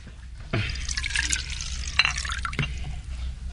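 Water poured into a drinking glass, a close, continuous splashing and trickling pour with a few brief clinks, heard alone without talk.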